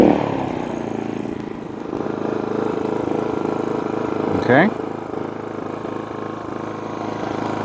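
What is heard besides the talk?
GENMAX GM3500Xi open frame inverter generator running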